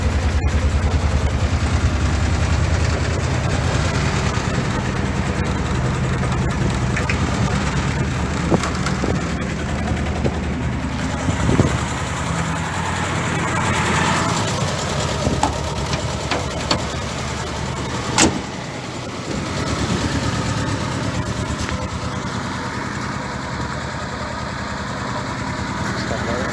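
A Land Rover Series 2a long-wheelbase engine idles steadily with a rough, vibrating rumble while the gearbox has no oil, and occasional clunks and knocks are heard around the vehicle.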